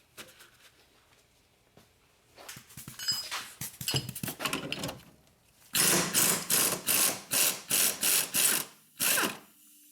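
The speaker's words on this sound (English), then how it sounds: "we're gonna undo this bolt up here." A ratchet wrench turns the upper strut mount bolt on a Hyundai Sonata's rear suspension, first in quick uneven clicks, then in a series of loud, evenly spaced ratcheting bursts close by.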